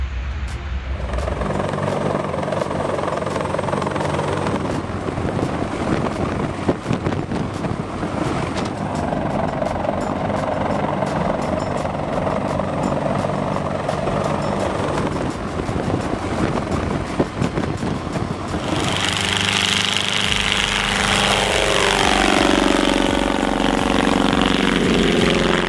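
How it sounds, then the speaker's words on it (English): A C-130H Hercules propeller aircraft flies at an airshow in humid air, making a loud, steady, throbbing engine drone that fills the whole stretch and shifts to a brighter, harsher tone toward the end. "the C-130H Hercules wowed spectators with dramatic propeller vortices during its flight"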